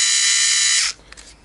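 Light cordless power driver with forward and reverse, running slowly at about 180 RPM, gives a steady high buzzing whir for almost a second, then stops abruptly, leaving a few faint clicks, close and alone.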